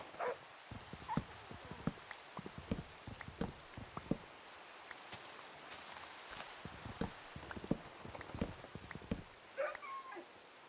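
Steady rain patters in a broad hiss in the video game Minecraft, with frequent sharp, irregular taps and knocks scattered throughout; no talking.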